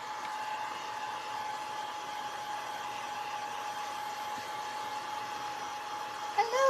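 A hair dryer blows steadily to dry a Dollar Tree cutout birdhouse craft, a constant whooshing hum held for several seconds at close range, with a brief voice breaking in at the very end.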